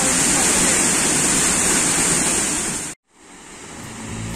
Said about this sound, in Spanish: disfrutando de la cascada, una cascada bastante alta, le calculo aproximadamente 25 a 30 metros de altura